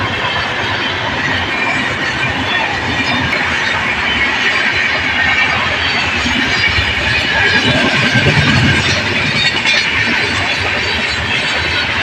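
A train runs along a railway track nearby with a loud, continuous rumble of wheels and carriages that holds steady throughout, with no voices over it.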